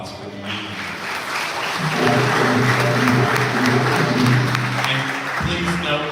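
An audience in a church breaks into sustained applause, a dense, even wash of clapping that swells after a couple of seconds and holds steady throughout, with a faint voice in the background.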